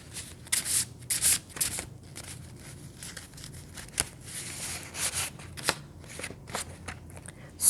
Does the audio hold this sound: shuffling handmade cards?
yes